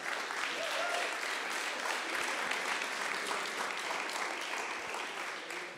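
An audience at a startup demo day applauds a newly unveiled logo, with sustained crowd clapping at moderate volume and faint voices beneath, holding steady and easing slightly toward the end.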